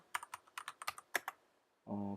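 Computer keyboard typing Java code: about a dozen quick, close keystrokes in an irregular rhythm, then a short tonal beep at the end.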